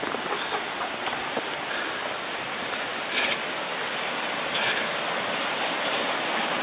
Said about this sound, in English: We're following this stream,